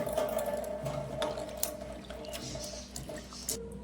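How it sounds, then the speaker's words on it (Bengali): Dried mango slices (amshi) being washed in water in a kitchen: soft splashing, trickling and scattered drips, close but fairly quiet, with occasional small knocks, no talking. "আমি আমশিগুলো ভালো করে ধুয়ে নেব।"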